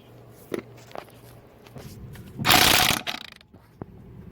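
A DeWalt power tool with a 21mm socket tightens lug nuts while a tire goes back onto a 2004 Tacoma, a short close burst of ratcheting whir after several metallic clanks and handling knocks.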